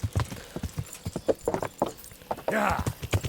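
A horse's hooves clip-clop in the game Kingdom Come: Deliverance, a run of uneven thuds near and moderately loud, with a brief whinny-like swell partway through.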